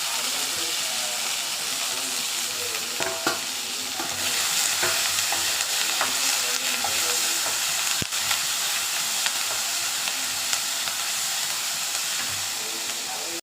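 Ginger, garlic, chilli, tomato and curry leaves are stir-fried in a pan, giving a steady, close sizzle and hiss with scraping stirs throughout, loud and continuous without talk.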